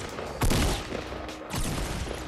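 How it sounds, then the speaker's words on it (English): Bursts of gunfire from a weapon in the Fortnite battle royale video game, with a loud opening volley followed by a second burst of rapid shots. "Never shot somebody that many times with a shot."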